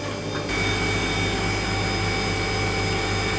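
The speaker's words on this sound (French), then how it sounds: "Et donc là on peut voir que les deux ventilateurs tournent" Two evaporator fans run inside a Liebherr negative-temperature freezer cabinet that no longer reaches its set point, a loud steady whirring hum with tonal drone lines that kicks in abruptly and continues evenly.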